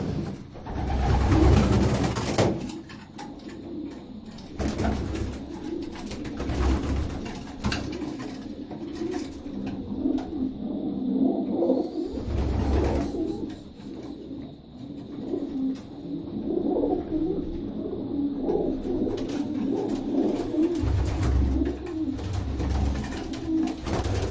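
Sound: sport pigeons cooing in a pigeon loft

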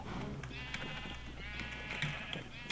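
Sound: sheep bleating in the video game Minecraft

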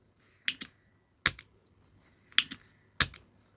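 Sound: testing the pump of a cheap desoldering iron

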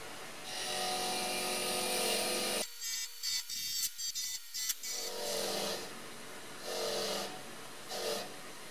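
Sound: bench grinder removing rust from BMW E30 gas tank brackets

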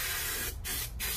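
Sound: spray adhesive glue sprayed onto van interior panel

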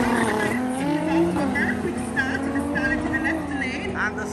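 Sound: Toyota Starlet and Nissan GTR drag racing launch

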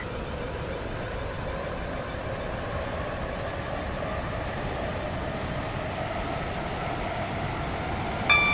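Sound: Roblox Stepford County Railway Class 44 train running, from video game

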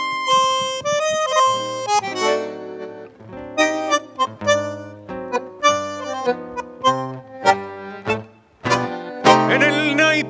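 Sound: tango played on bandoneon and guitar

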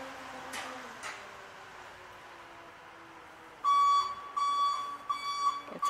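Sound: garbage truck backup alarm beeping

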